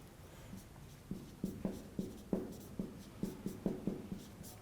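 Chalk or marker writing on a board during a signals and systems lecture, a steady series of short scratchy strokes in a loose rhythm, close and moderately quiet, with no speech.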